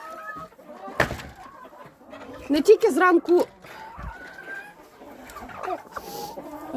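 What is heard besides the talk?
chickens clucking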